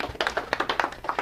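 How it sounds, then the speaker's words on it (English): A lecture audience claps in a short burst of quick, close, uneven hand claps. "Give her a big round of applause."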